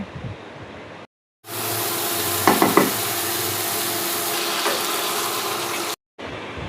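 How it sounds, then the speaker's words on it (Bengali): Fried eggs and potatoes being stirred into masala in a pan for egg curry, a steady close sizzle with a few scraping strokes of the spatula, framed by short breaks. "দিয়ে আমাকে ভালোভাবে মশলার সাথে ডিম আলু মেশাতে হবে"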